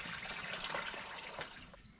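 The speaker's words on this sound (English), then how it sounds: "draining the radiator" Coolant pours out of the radiator on a Farmall 656 tractor, a faint, steady splashing rush of liquid throughout.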